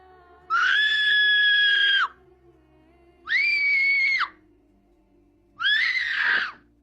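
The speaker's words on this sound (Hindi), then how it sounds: "करीबी गार से एक लड़की की चीख सुनाई दी" A girl screaming from inside a cave: three long, high, sustained shrieks, each about a second and a half, separated by pauses, loud and close against a faint low background hum.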